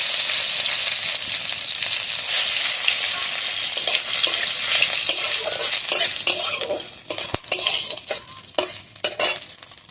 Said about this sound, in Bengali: তেলের মধ্যে আমি ফোড়নে দিয়ে দেবো গোটা জিরে, শুকনো লঙ্কা, তেজপাতা।